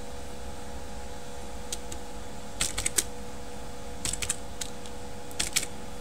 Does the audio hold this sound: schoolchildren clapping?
no